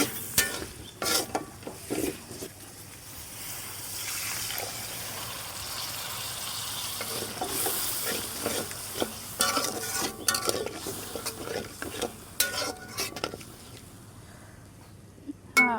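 Turmeric, chili powder, garlic paste, salt and cumin sautéing in a pan for a Malabar spinach curry, with soft sizzling and intermittent scraping stirs and clinks of a utensil, moderately close.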